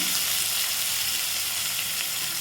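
Chopped onions sizzle and fry steadily in hot oil in a pan while being sautéed for kothu chapati, a continuous close, bright crackling hiss with no talk.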